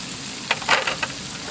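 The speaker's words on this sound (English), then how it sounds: "I'm going to add some onions to the griddle" Onions for a Wisconsin smashburger sizzle on a hot griddle, a close, steady hiss with several short bursts of spatula scraping and crackle, no voices.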